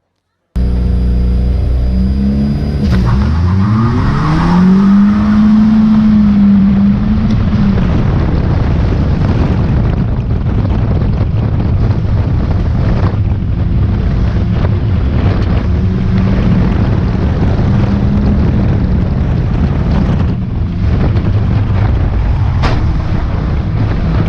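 Race car engine running continuously through a loud in-car onboard recording during a race, with a rising engine whine early on under heavy wind and road roar.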